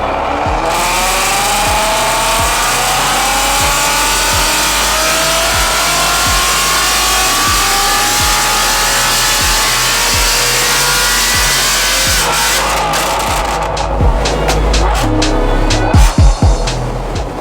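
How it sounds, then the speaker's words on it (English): A modified Ford Mustang GT350 making about 820 wheel horsepower runs on a dyno, its engine droning loudly and climbing steadily in pitch through a long pull, then dropping away near the end with a few sharp bangs. "we're going to stick it on the dyno, do some power runs"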